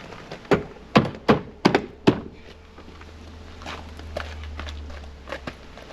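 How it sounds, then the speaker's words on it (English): Interior door card panel on an Audi TT Mk2 (8J) being lifted and hooked onto the front door, giving a handful of sharp plastic thunks and taps in quick succession, then quieter knocks and a faint low hum. "lift the door card onto the door and hook it on at the top."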